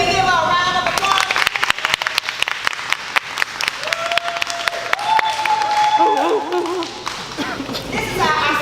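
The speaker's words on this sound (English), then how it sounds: "Can we give a round of applause?" Audience applause at a back-to-school style show event, steady loud clapping across the whole stretch with voices and whoops talking over it partway through.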